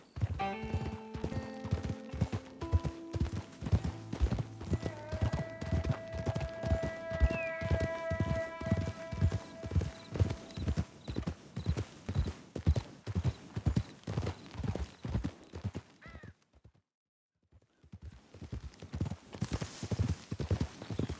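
Steady clip-clop of horse hooves trotting along with a rhythmic beat, over music with occasional whinnies, in the video game Red Dead Redemption 2; brief silence near the end before the hoofbeats resume.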